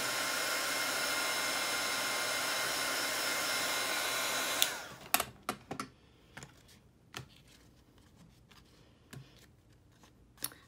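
Handheld heat tool blowing a steady loud close whoosh for several seconds while heating craft material to a beaded finish, then shutting off into quiet handling taps and clicks with no talk.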